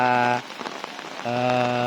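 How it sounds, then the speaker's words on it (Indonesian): Light morning drizzle falls under overcast skies, a soft steady patter heard alongside a sustained droning hum that drops out briefly midway. "Pagi ini hujan gerimis, kayaknya mendung."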